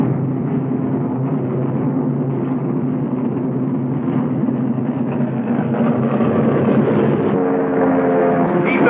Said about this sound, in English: American P-38s rise to the attack.